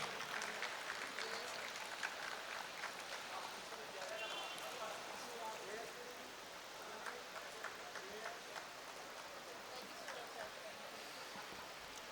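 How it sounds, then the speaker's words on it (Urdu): An audience at an alumni reunion of Peshawar Model School claps in a soft, continuous patter, heard faint and somewhat distant, with no talk over it. "آپ لوگوں کی بھرپور تالیوں میں"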